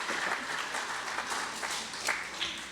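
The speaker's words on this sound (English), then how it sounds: "can we get a round of applause for the phony pony?" An audience at a car seminar at the Cobble Beach Concours d'Elegance applauds the phony pony, a vehicle introduced in November 2019: steady, fairly soft clapping from many hands that swells briefly toward the end.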